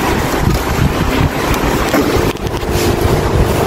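A Samsung automatic washing machine on power spin after a repair for noisy draining, giving a loud, steady broadband whirring rush with a brief dip partway through and no talk.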